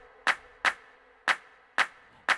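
Layered clap sample in FL Studio, five sharp dry hand-clap hits in a steady but slightly uneven pattern, moderately loud and isolated with only a faint tonal hum beneath.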